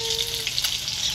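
Fish and potatoes frying in oil in a pan, with a steady close hissing sizzle throughout this short moment and a faint tone at the start, no talking.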